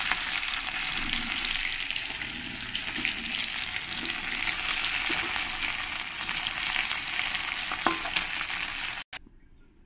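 Potatoes frying in oil left over from frying katla fish heads, a continuous close sizzle with occasional crackles and stirring clinks, cutting off abruptly near the end.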